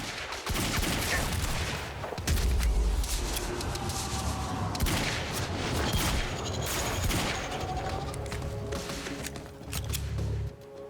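Submachine gun fire in the video game Quantum Break, a dense fusillade of rapid shots with booming impacts and mechanical clatter running loud and nearly continuous throughout.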